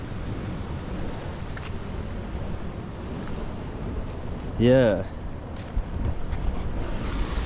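Sea waves wash against the rocks along the Portland coast of Jamaica, a constant surf under gusting wind noise, with a brief surge midway and a voice speaking once.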